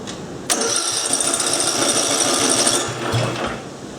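A Briggs and Stratton small engine cranks after a shot of starting fluid, with a rapid, even chugging from the recoil or starter for about three seconds, loud and close, without catching.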